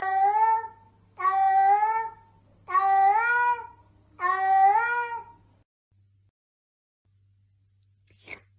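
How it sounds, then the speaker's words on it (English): Four drawn-out, plaintive meows in a row from a blind baby kitten, close and clear, followed by quiet and a brief sniff or sneeze at the end. "This little kitten, she just came crawling from one corner as I was putting out food."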